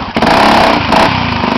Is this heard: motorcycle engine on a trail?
yes